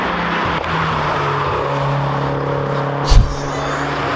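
Race car on the Nürburgring circuit, a steady engine drone that drops in pitch partway through, followed by a sharp loud burst as the car shifts gear, no speech.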